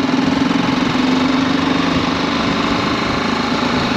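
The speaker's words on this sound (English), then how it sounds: "That was a piss poor gear change there, Matthew Sylvester." A motorbike engine running just after a rough gear change on a country lane, a steady, loud mid-pitched drone with a faint knocking pulse throughout.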